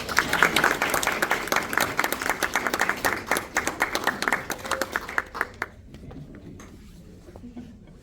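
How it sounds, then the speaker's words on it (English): Applause at a school district board meeting: a room of hands clapping densely for about five seconds, then thinning to a few scattered claps and quiet room noise. "Say a round of applause"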